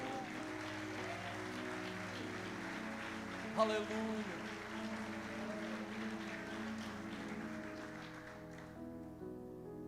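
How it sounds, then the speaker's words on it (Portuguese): A church congregation applauds during a sermon on prayer, steady clapping blended with organ or keyboard chords and voices. One worshipper calls out an exclamation partway through, and the applause continues at a moderate level. "Se você crê, dá um glória a Deus bem alto e aplauda o nome do Senhor"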